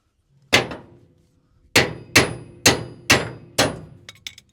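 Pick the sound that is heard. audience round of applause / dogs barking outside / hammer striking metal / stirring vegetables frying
hammer striking metal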